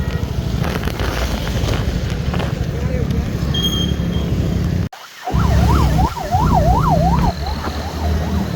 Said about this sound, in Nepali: एम्बुलेन्सलाई चाहिँ बाटो छोड्नै पर्छ